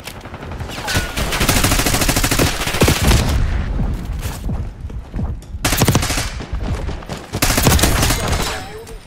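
Black Ops 6 firefight: dense bursts of automatic gunfire and overlapping shots, loud and close, broken by brief lulls before the shooting picks up again.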